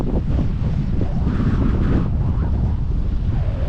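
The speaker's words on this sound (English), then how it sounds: "I'm getting more of the wind blowing in my face now" Wind on a hilltop above the River Wear roars steadily and loudly against the microphone, buffeting close up without a break.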